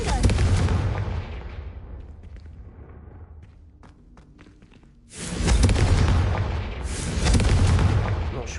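A Confringo blasting spell in Hogwarts Legacy sets off heavy booming explosions, loud and close, with a quieter stretch in between before a second powerful roaring blast.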